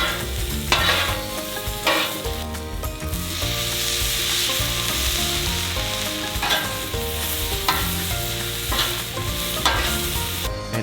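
Chopped bacon and Brussels sprouts sizzle on a Blackstone flat top grill under steady background music, with periodic bursts of spatula scraping and stirring.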